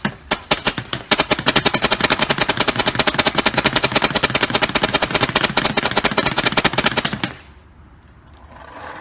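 A full-auto airsoft gun fed from a box magazine fires a long, rapid, steady burst of close, loud shots that cuts off abruptly, leaving faint background noise.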